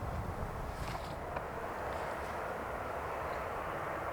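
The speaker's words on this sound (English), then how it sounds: "The aircraft is a Boeing 737-800" A Ryanair Boeing 737-800 jet at Manchester Airport gives a steady, continuous engine roar with broad rumble and a faint whine, holding even loudness throughout with no talk.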